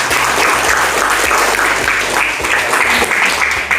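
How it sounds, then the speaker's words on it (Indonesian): A classroom of students applauds, giving loud dense clapping that holds steady for several seconds without pause. "Mari kita beri aplaus."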